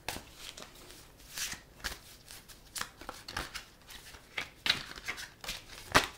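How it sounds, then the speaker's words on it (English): Tarot cards are shuffled repeatedly in soft, crisp riffles and flicks, close and quiet, with short pauses between bursts. "give my cards a little bit of a shuffle here"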